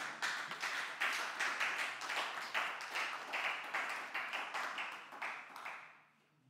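A church congregation claps in steady rhythmic applause, acclaiming the Lord, a run of regular clap bursts at moderate distance that fades away at the end.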